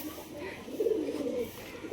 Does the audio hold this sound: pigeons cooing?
yes